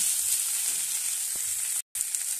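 Onion and spice masala sautéing in hot oil in a pan for a Bengali folui fish curry, a close, steady bright sizzle with a faint stir partway through and a brief cut near the end.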